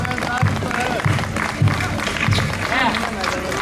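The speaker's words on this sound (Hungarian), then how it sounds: "Egy nagy tapsot kérünk Attilának is." Crowd applause and cheering rise at an outdoor cabbage festival in Vecsés during a parade of decorated carriages, the clapping mixed with voices and steady background bustle.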